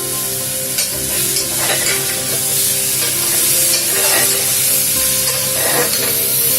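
Vegetables roast in a hot pan for dalia khichdi, a steady close sizzle and crackle running unbroken throughout, with faint stirring scrapes and no voices.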